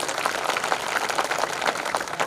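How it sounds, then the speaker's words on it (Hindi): Steady applause from an audience at a kavi sammelan at the Kishanpur Mela fills the moment, dense and continuous clapping for a couple of seconds with no voices over it. "मैं चाहता हूं एक बार जोरदार तालियों से आप विदाई दें"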